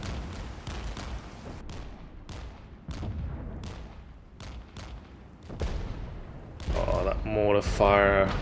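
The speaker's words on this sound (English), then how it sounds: "Mortar fire." Mortar and gunfire in the Cold War tactics game Regiments: a steady series of sharp, thudding shots and blasts at irregular intervals, with a louder, rumbling burst of fire near the end.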